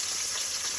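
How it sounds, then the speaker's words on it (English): Steak sears in a hot pan with a loud, continuous close hiss of sizzling fat, brief and steady. "So while our steak are getting searing"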